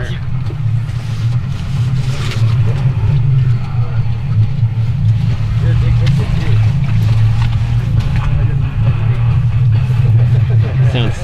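A loud, steady engine rumble with a deep low drone running throughout, slightly rough and close by, with faint voices in the background.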